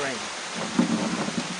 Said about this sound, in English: The rain, the rain, the rain, the rain. This is the beauty of Liberia.